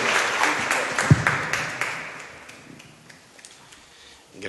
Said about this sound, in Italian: Innanzitutto vorrei che lo accogliesse con applauso Nuccio Ordine